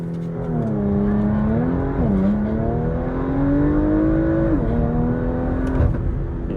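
Porsche Macan GTS launching under launch control: a close, loud engine note climbs steadily with two quick gear shifts breaking the rise, pulling hard the whole way with no talk.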